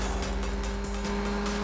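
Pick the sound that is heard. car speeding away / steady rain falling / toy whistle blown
car speeding away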